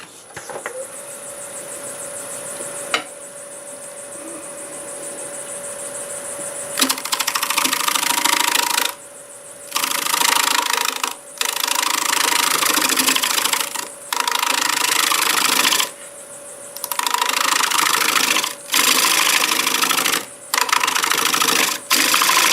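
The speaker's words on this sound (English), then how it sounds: "Let's do a little more shear scraping here with the 5/8." Black walnut being shear scraped with a 5/8 gouge on a running wood lathe gives a steady motor whine and bursts of loud, rough scraping that start and stop in repeated passes of a few seconds each.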